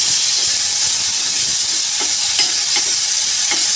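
Boiled green chickpeas tossed into a hot tempering of oil with cumin, mustard seeds and asafoetida, sizzling steadily with a constant hiss and a few soft stirring clicks and scrapes, close and fairly loud.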